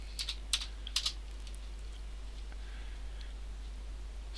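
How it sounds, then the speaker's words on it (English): Quick bursts of keystrokes on a computer keyboard, a cluster of sharp clicks early on, then sparse faint taps and one more near the end, all quiet and close with no talking. "I'm going to type in the box it says 100"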